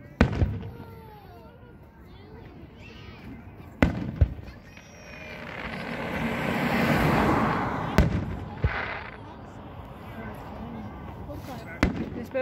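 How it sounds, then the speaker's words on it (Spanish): Fireworks burst over a park on Independence Day night, sharp isolated bangs at irregular intervals and a swelling crackling roar in the middle, somewhat distant, under someone talking. "Los cohetes que están tirando aquí arriba en un parque."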